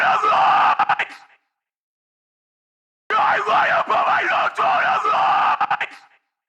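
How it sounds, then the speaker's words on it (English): Thin, lo-fi processed metal vocal screams, dry and harsh, come in two loud bursts with a silent gap between them. "Thin lo-fi screams."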